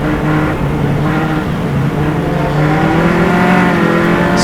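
Formula Atlantic race cars at Mid Ohio roar steadily and loudly with a continuous engine drone that rises slightly in pitch partway through, heard alone without talk.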